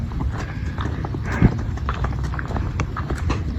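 A water buffalo pulls a cart along a village road, its hooves clopping in a steady, close rhythm over continuous rolling and rumbling noise.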